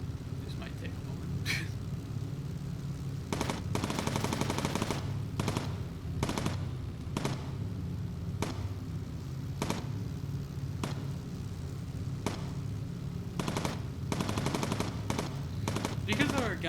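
Bursts of machine gun fire from a bomber's gun turret in the video game Bomber Crew, with repeated short volleys at irregular intervals over a steady engine drone, and someone talking over it.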